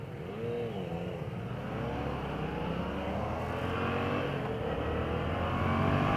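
A 2015 Yamaha FZ-07 motorcycle engine revs and drops through downshifts on a test ride, a loud, continuous drone with rising and falling pitch under steady wind noise.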